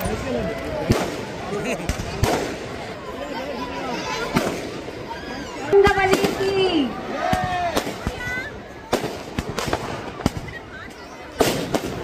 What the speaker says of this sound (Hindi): आतिशबाजी के बीच